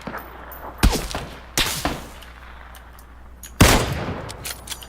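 MK14 rifle fire in the PUBG battle royale game: three sharp, loud single shots spaced apart, each with a short echoing tail, over a low steady background hum.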